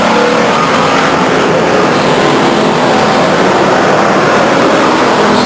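Race cars roar at Stockton 99 Speedway, a loud, dense wall of engine noise that holds steady for several seconds as cars circle the track, close and overwhelming with no voices audible.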